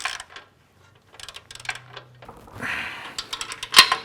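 A ratchet tightens the outside 18 mm bolts on an Ironman 4x4 Raid full-length front bumper fitted to a Jeep Wrangler JL Unlimited. Bursts of quick, close mechanical clicking are separated by quiet pauses, ending in a sharper clack.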